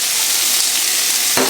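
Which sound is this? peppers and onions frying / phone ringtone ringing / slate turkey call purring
peppers and onions frying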